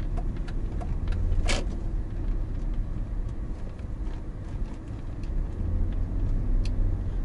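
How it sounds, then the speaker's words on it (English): A car drives along empty roads in a steady, continuous interior rumble of engine and tyres, with a few faint clicks on top and no talking. "as I'm driving on these empty roads"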